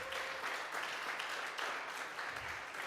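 An audience applauds a klezmer band at a Succos show, with steady clapping from a crowd that sounds fairly near and keeps going throughout.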